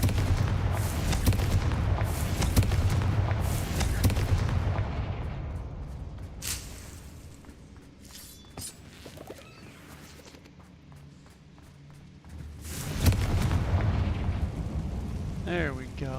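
A Confringo fire spell bursts with loud explosive booms in the Hogwarts Legacy video game, a heavy blast early, then quieter rumbling and a second loud burst near the end, with a voice talking over parts of it.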